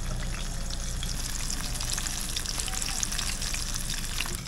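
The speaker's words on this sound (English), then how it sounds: "I want it to fry nice and slow so that it makes almost like a garlic chip" Garlic frying slowly in oil beside fish being cooked: a steady, close, even sizzle and crackle with fine popping, continuous throughout with no talk.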